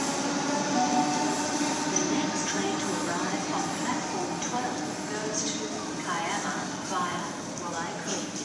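A Sydney Tangara train rumbles at the Redfern underground platform, a steady loud roar and rattle of wheels and carriages filling the station, with voices and station announcements heard over it.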